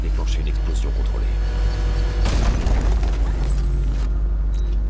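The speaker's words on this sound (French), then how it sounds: "Avec le treuil électrique, je peux déclencher une explosion contrôlée." A controlled bomb explosion in the video game Batman: Arkham Knight bursts into a loud, rumbling boom partway through, set against a constant low game drone with a voice speaking over it.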